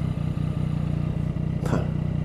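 A Yamaha MT-09 Tracer motorcycle rumbles along with a steady, pulsing three-cylinder engine beat, close and continuous, with a brief sharp noise passing near the end.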